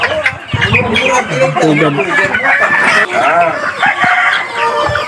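Darag native chickens cluck and crow close by on a farm, busy overlapping calls mixed with people talking nearby.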